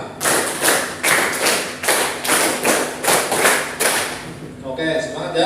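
A class of pupils claps together in a counting game, two quick runs of five claps making about ten bright, evenly spaced beats close by, with a voice speaking near the end.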